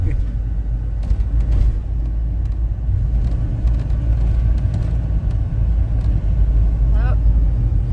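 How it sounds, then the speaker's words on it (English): A van rolls over an unfinished road under construction in Serbia, producing a constant low rumble of tyres and engine with small bumps and knocks; a voice is heard faintly. "It looks like they're still building the road that we're actually trying to drive on."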